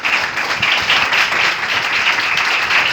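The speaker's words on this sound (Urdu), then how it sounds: "زوردار تالیاں اپنے خدا کے لیے۔" A church congregation breaks into loud, sustained applause, a dense, even roar of many hands clapping together at close range with no voices rising above it.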